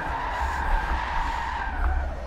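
Tyres squeal steadily as a car drifts sideways in a racing video game, a sustained, fairly loud skid over engine drone with no pauses.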